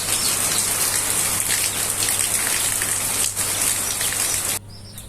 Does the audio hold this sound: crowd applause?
no